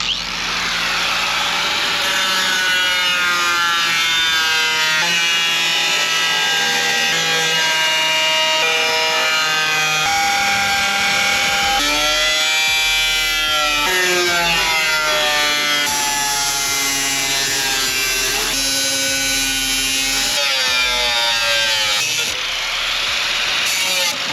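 A power tool cuts metal on a Harley M8 chopper build, a loud close whine whose pitch keeps rising and falling as the blade follows a line, running steadily without talk.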